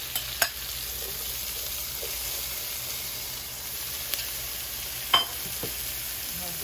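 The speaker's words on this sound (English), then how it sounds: "I'm gonna put my oil, and you could use any kind of oil just to coat the pan." Oil heating in a pan for stew chicken, a steady soft sizzle and hiss with a few brief clinks, and no talk over it.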